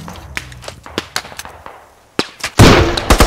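A grenade blast in the Squad military shooter follows a run of sharp, distant gunshot cracks, bursting close and loud as a heavy rumbling boom with a few trailing pops.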